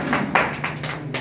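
Brief burst of clapping from a crowd at a Ramechhap cultural artists' society election, greeting a newly elected member, a few uneven swells of hand claps over a low steady hum.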